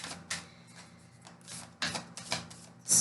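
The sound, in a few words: shuffling a deck of cards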